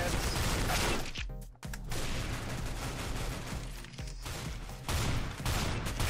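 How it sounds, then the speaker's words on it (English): Gunfire rattles in Counter-Strike: Global Offensive during an Arms Race match, with dense, loud bursts of rapid shots broken by a few short pauses. "I'm literally shooting my own teammates now"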